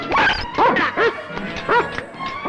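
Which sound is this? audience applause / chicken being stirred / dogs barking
dogs barking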